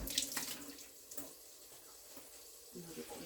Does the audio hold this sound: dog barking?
no